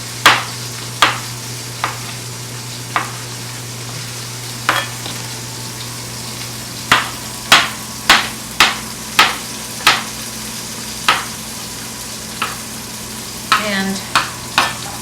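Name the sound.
mushrooms being stirred and fried for pork sausage egg scramble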